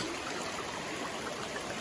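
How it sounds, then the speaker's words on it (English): A woodland brook on the Appalachian Trail near Kinsman, flowing in a steady close-up rush and babble of water, continuous and fairly loud, with no voices. "That's the brook we're gonna cross."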